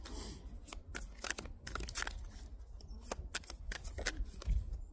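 Tarot cards shuffled by hand with cold, stiff fingers, giving quick papery riffles and flicks in irregular bursts, close up with no talking.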